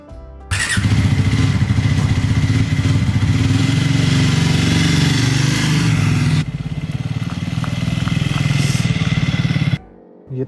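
A motorcycle engine runs loud and close throughout a ride, a steady mid-pitched drone with some revving and a brief squeal-like tone, cutting off near the end.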